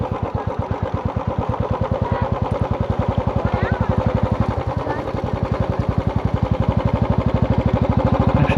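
Motorcycle engine chugging steadily at low speed on a muddy road, a close, even thumping putter running the whole time while someone talks over it.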